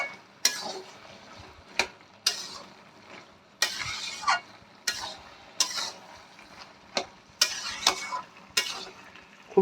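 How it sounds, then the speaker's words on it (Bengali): Vegetables with fish roe and fish heads being stirred in a pan over a high gas flame, a series of sharp spatula scrapes and knocks at irregular intervals over a soft background sizzle. "এবার আমরা ভালো করে, যেন নিচে না লেগে যায়, ভালো করে নেড়ে দেব"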